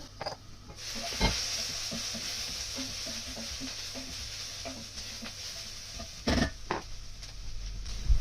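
Chickpea curry stirred in a pan, a quiet steady sizzle with soft scraping strokes of the spoon and a couple of sharper knocks against the pan.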